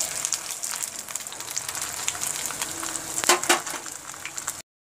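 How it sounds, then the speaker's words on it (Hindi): Bread pieces for shahi tukra fry in hot oil with a continuous close crackling sizzle, spitting more sharply near the end before it cuts off abruptly. "अब हम एक एक करके पीसेस डालते जाएंगे और फ्राई करते जाएंगे।"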